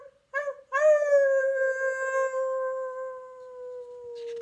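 A human voice imitates a hungry wolf howling: a couple of short yips, then one long, clear, sustained howl that slowly falls in pitch and fades, close and fairly loud.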